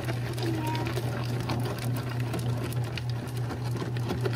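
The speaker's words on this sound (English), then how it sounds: "It's so fun watching the bread machine do all the work." A bread machine mixes dough with a steady, close motor hum and a faint churning patter running unchanged throughout.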